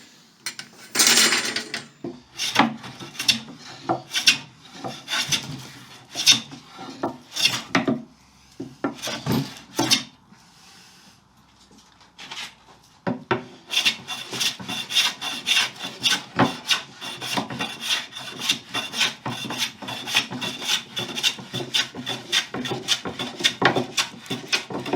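Hand rasp smoothing down the wooden top of a table, heard as bursts of close, scratchy strokes that pause briefly around the middle, then resume as a denser run of rapid, rhythmic rasping.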